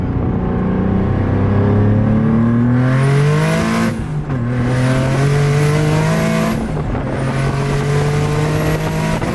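A single-turbo Nissan 370Z Nismo pulls hard on high boost, its engine note climbing loud and close through rising harmonics, dropping abruptly at two gear shifts before climbing again with turbo whine above.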